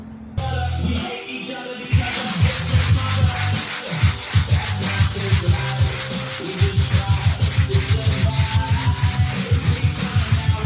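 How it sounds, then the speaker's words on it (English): Sanding a patched drywall ceiling after a roof leak repair makes a loud, close, rhythmic scraping of repeated back-and-forth strokes that speed up into a steady fast cadence, with no talking. "I'll sand it and mud it one last time, and then we'll sand it the last time"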